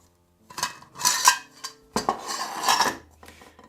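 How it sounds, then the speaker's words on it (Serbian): An aluminium camping cooking pot set, two vessels in one, is handled in several close clanking, scraping bursts of metal on metal, separated by short pauses and heard without talk. "To je ova specifična aluminijumska posuda za kuvanje."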